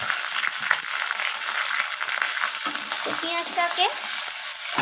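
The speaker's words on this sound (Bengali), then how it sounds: "রসুনের সাথে আর ফোড়নের সাথে একটু হালকা ভাজা ভাজা করে নেব" Chopped onion frying in a pan with garlic and tempering spices, a loud, dense, close sizzle that stays steady throughout, with some faint clicking and stirring underneath.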